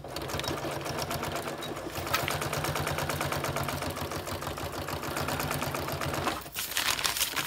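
Sewing machine stitching shower curtain fabric, a continuous close, rapid rhythmic whirring with a brief pause near the end before it resumes.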